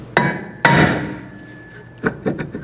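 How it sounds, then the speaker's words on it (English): Two hard metallic hammer blows on a 2007-11 Honda CR-V rear wheel hub ring out, each with a lingering ring, followed by a few lighter, quicker taps. "Now you can take a hammer and hit in these locations right here"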